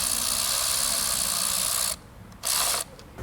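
A ratchet clicks steadily as it tightens a screw during an engine replacement, loud and close with a continuous mechanical rattle that stops briefly twice near the end.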